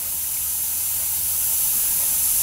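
A Tamiya HG SuperFine airbrush spraying paint, a steady close hiss of air and spray running unbroken, bright and continuous, with no voices.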